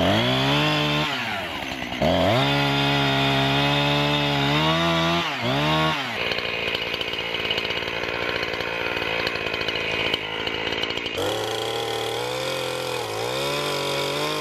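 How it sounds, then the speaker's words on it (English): A chainsaw engine roars loudly and close, revving up and down repeatedly, with brief drops between bursts of high throttle. "I had the chainsaw running good yesterday. Hopefully it'll be running good today."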